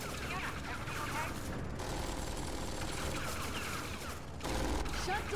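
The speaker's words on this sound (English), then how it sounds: "we're being shot at right now" Turret gunfire in the video game Tales from the Borderlands, a dense, continuous barrage of rapid shots with mechanical clatter that barely lets up across the span, loud and close, with voices talking over it.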